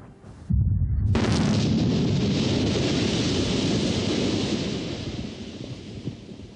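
A quarry explosives blast goes off as a sudden heavy boom, then a broad roaring rumble that rolls on for several seconds and slowly fades, with no voices.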